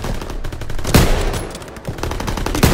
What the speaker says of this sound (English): SMGs, open fire!